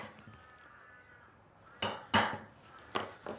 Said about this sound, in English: using a punch, where those two lines intersect, just give myself a little start